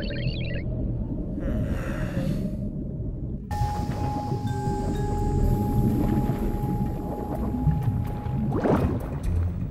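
A Zodiac inflatable boat's motor rumbles low and steadily on a stormy sea, joined by sustained whistling tones and a swelling whoosh near the end, with no speech.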